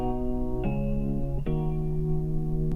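A keyboard plays sustained, harmonically rich notes that change pitch twice, steady and moderately quiet, with no voices over it.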